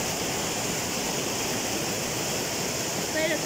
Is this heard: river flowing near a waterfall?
yes